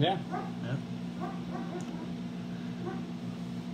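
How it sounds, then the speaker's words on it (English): A dog barking a few times in the background of an indoor room with a steady electrical hum, short yips under a person's brief talk. "That was just a dog barking in the background"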